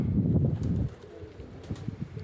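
Low, soft pigeon coos rumble at close range, a steady murmur at first that thins into scattered, quieter calls.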